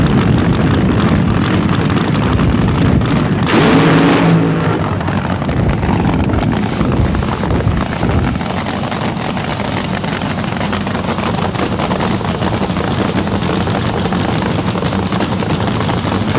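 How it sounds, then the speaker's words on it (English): A jet funny car's jet engine fires and runs at a 1988 drag race, a loud, sustained, broadband roar with a sharp surge near the start that then settles into a steady blast. "Fired and running is the jet car."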